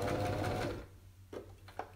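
Sewing machine stitching a crossbody cellphone pouch, a fast humming motor run that stops after under a second, followed by a few soft clicks and handling taps, close up.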